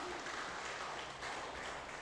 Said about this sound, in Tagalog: Palakpak nga uli sa Panginoon.